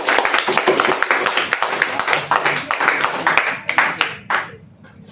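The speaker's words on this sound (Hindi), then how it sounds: "देखो ताली मारो कसके भगवान" Schoolchildren in a classroom clap hard together in quick, uneven rounds of claps that run for several seconds, then fade near the end. Voices mix in underneath.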